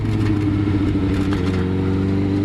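A sport bike's engine hums loudly and close with a steady, harmonic mid-pitched drone, shifting slightly in pitch as it is revved and shifted up early through city riding, with no voices.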